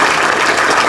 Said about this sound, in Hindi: चलिए ताली बजाइए